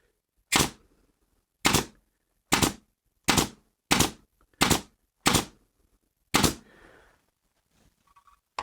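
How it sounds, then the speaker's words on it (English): A pneumatic nail gun driving nails into wood, eight sharp, loud bangs with short decays at roughly even intervals, each shot isolated by near silence. "turn your nail gun to the front, just like this"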